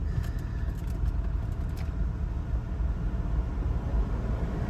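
A Ford Everest engine idling smoothly with the air conditioning running, a steady low rumble heard up close with no talking.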